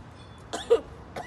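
During a choking first-aid demonstration, a person lets out a couple of short, fairly faint coughs close to the microphone, with quiet pauses in between.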